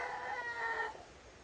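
A chicken's short nasal call, like a hen's drawn-out cackle, fading after about a second into background hiss.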